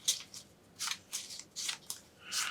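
Playing cards for the Heat board game are shuffled in several quick, crisp riffling bursts, close and fairly soft, with no talk.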